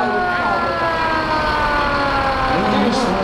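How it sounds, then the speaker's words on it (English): Fire truck sirens at a Christmas parade wail loud and close, their pitch sliding continuously downward over a busy outdoor background. "And we have some more fire trucks coming, you guys."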